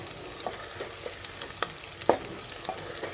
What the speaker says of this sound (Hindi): अब तीन लार्ज साइज प्याज को लेंथ वाइज काट कर गरम तेल में डालें